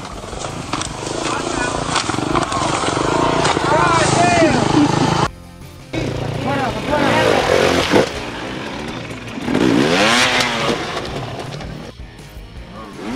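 A motocross bike's engine revs and strains while stuck in a tricky mud puddle, loud rising and falling whines cut by a brief pause, with people talking over the noise.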